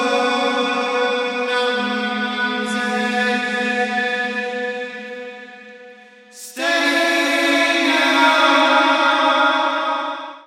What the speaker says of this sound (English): I wanted it to sound like an echo from a distance